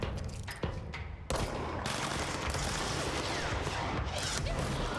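Dense rapid gunfire in the video game Control while aiming for headshots, loud continuous bursts of shots and impacts filling the whole stretch with a short lull near the start.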